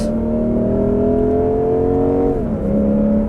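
A 2022 Lexus IS 500 V8 engine revving: a loud, smooth, sustained drone that holds steady, dips in pitch as the revs drop, then settles again, heard close with no talking.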